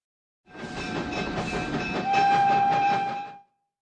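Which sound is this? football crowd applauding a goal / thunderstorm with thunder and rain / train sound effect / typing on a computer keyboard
train sound effect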